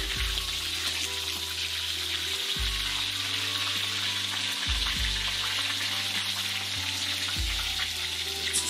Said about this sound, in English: He's got a nice big wok there he's cooking it in.